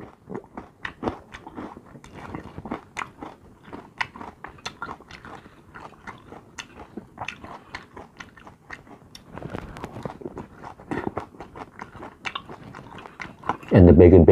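Close-up crunching as someone chews crisp croutons during a mukbang, irregular sharp crackly bites repeating, with a louder burst of noise at the very end.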